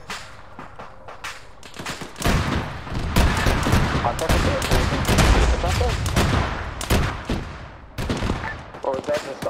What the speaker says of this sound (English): Or is that just autocannon?